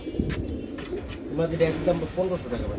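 Racing pigeons at a loft coo softly in short throaty bursts, with someone talking throughout over them.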